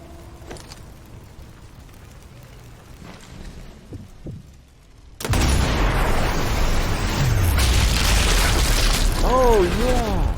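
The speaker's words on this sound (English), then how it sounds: "Grenade shot." A grenade explosion in the video game Sniper Elite 4 erupts suddenly after a quiet stretch of faint ambience, a loud close boom followed by a sustained roaring rumble and debris noise.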